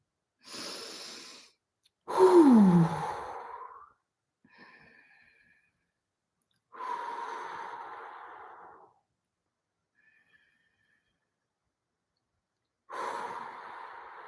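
Slow deep breaths taken for calming, several long inhales and exhales spaced apart with quiet pauses between, close and soft, with no talking.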